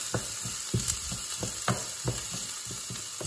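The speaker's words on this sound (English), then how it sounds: "What will happen now is we fry the onions." Onions fry in a pan over medium heat, making a constant soft sizzle with irregular scraping clicks as they are stirred, close and alone without voices.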